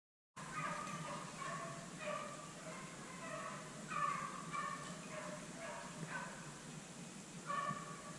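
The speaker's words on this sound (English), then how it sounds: "Real barking with the kill." Distant dog yipping and barking in short repeated bursts during a rabbit hunt in thicket, faint against outdoor ambience, with a few louder yelps.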